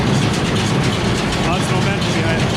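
BB940 hay baler with a heavy flywheel runs at about 800 RPM, giving a loud, close, continuous mechanical roar and rhythmic thumping.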